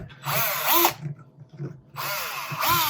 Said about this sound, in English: we're going to clamp this on here because we're going to drill